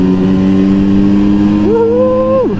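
A two-stroke Vespa scooter engine fitted with an RC CDI ignition idles steadily, then revs sharply up to a high, sustained buzzing pitch before dropping back, loud and close with no talking.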